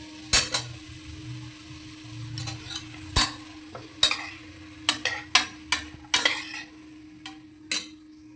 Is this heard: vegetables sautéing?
yes